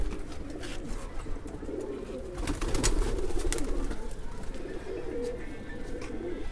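An Anara pigeon coos softly and repeatedly nearby, low throaty calls over a quiet outdoor background.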